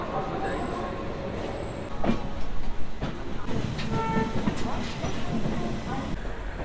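The Mumbai Mail 12321 rolls out of Howrah, heard from inside a carriage: a steady rumble with rail clatter, fairly loud and continuous, while someone talks over it.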